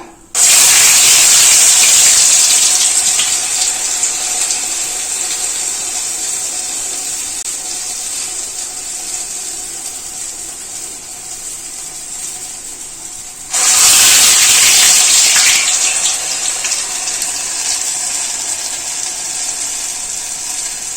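Urad dal vada batter dropped into hot oil sets off a loud, bright sizzling hiss that gradually settles, then a second portion goes in and brings a fresh burst of intense frying that continues to the end.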